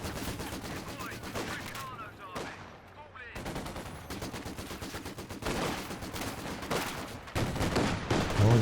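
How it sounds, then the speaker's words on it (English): Machine gun fire in the Company of Heroes 2 strategy game, rapid bursts of shots rattling on and off with distant explosions and battlefield noise, briefly thinning mid-stretch before the firing picks up again. "Now under fire from the MG."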